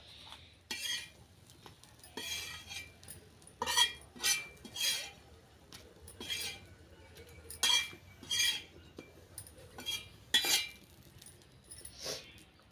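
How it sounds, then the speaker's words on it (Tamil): Brinjal (eggplant) pieces stirred and fried in a pan in a home kitchen, with repeated metal spatula scrapes and clinks against the pan in uneven bursts, close and clear with no talking. "இப்போ இதே மாதிரி இன்னும் மீதம் இருக்கிற கத்திரிக்காயை வந்து நம்ம வறுத்து எடுத்துக்கலாம்"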